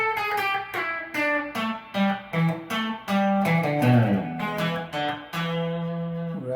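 An electric guitar plays a solo from a live performance slowly, with a steady run of clearly separated picked notes and short bends, close and alone.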